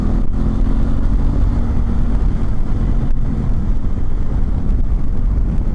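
Honda Africa Twin motorcycle with DCT automatic gearbox pulling away and accelerating, a steady low engine drone blended with constant wind rush over the microphone, with no talking.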